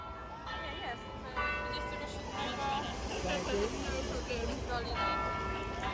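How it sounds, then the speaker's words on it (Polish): A bell rings repeatedly at Tivoli amusement park in Denmark, bright tones ringing out in clusters beneath nearby talking and crowd noise. "Dzwonek jest."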